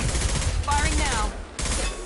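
Rapid gunfire rattles in the video game Mass Effect 2, a dense sustained burst of automatic shots with a brief synthetic sweep in the middle and a short gap before firing resumes.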